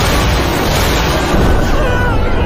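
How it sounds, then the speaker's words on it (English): A loud, sustained roaring explosion effect from anime explosion magic, a dense rumbling blast filling the whole clip with no break. "Explosion magic is the only explosion."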